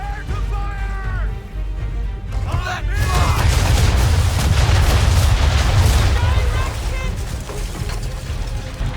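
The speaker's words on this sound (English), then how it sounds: "Prepare to fire!" Ship cannons fire a broadside in Assassin's Creed 3, a rolling run of heavy booms and crashes that swells after a brief lull and carries on loudly, with a voice heard early on.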